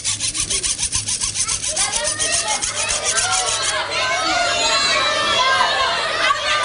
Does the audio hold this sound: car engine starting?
no